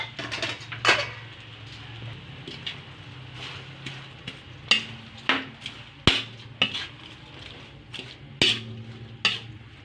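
Cabbage tossed and stir-fried in a wok for pansit bihon with sardines, a soft sizzle under repeated sharp clanks of a spatula striking the metal pan in an uneven rhythm, close by.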